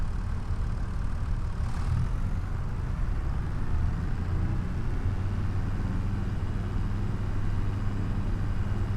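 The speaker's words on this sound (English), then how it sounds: "Man, that tractor sounds really nice." A tractor engine idles in a farming simulator game, a steady low rumble with a faint constant hum holding evenly throughout, alone and without voices.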